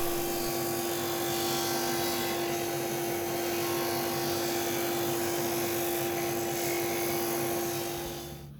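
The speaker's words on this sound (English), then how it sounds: "to clean up the edge, I ran each shelf through the disc sander." A disc sander trims and smooths the edges of formply shelves, giving a steady, loud, continuous machine whine with a fixed tonal hum that holds evenly throughout and tapers slightly at the end.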